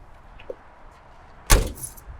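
A sudden metallic clunk and rattle as the hood of a 1979 GMC Caballero is released and lifted, after a quiet stretch with a faint click.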